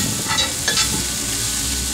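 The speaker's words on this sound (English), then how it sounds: "So we'll saute these for about maybe 3-4 minutes." Vegetables sauté with a soft sizzle on a Yoder YS640 pellet grill, and a couple of brief stirring scrapes cut in over the steady frying hiss.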